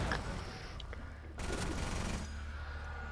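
Vector SMG fire in a shooter game, a loud, dense spray of rapid shots with a brief lull before a second burst.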